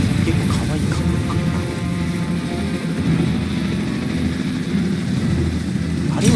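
A helicopter in the video game Resident Evil 6 gives off a loud, steady rotor and engine drone that fills the whole stretch without letup.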